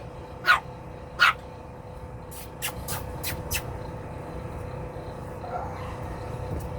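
A puppy barking indoors: two sharp high yaps close by, then several softer, quicker yips with a faint whimper afterward.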